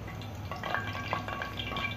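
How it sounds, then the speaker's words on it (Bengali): Oil heating in a frying pan before loitta fish is added, giving a steady low sizzle and faint crackle that holds evenly throughout, close and continuous with no voices. "আমার তেলটা অলমোস্ট গরম হয়ে এসছে।"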